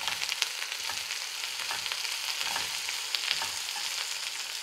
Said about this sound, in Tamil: நான் மூணு பெரிய வெங்காயம் எடுத்து வச்சுருக்கேன். அதை போட்டு வதங்கிக்கிட்டு